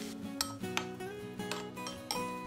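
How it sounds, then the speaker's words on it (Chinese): A spoon clinks and scrapes against a bowl while minced garlic is stirred with hot Sichuan pepper oil, several sharp close taps in an irregular rhythm. "然后在蒜蓉碗里泼上热好的花椒油搅拌"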